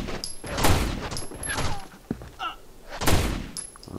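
Repeated gunfire bursts and thuds ring out during a firefight in the video game Rainbow Six Vegas, with loud volleys at intervals and a few sharp clinks between them.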